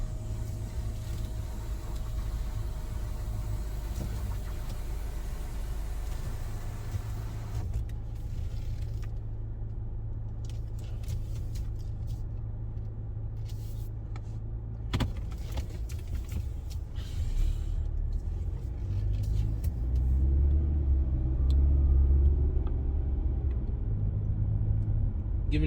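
A car drives along a road, its steady low engine and tyre rumble continuous throughout, with some creaks and a heavier rumbling stretch near the end; no talking.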